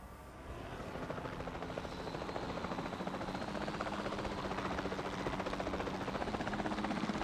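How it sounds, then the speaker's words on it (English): Helicopter in the dinosaur park game Jurassic World Evolution 2, its rotor chop rising in and then holding as a steady, loud, continuous thrum with a whining turbine above it, no talking. "I'm gonna have to get the helicopter out and tranquilize you"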